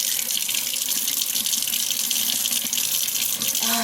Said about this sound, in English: make sure you have your water running